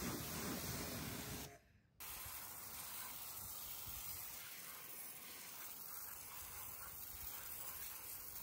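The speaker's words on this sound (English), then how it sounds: "The exhausts were given a foam with the wheel and tyre cleaner" Foaming wheel and tyre cleaner is sprayed onto the exhausts of a BMW Z4, a continuous close hiss that cuts out briefly near the start and then resumes steadily at a faint level.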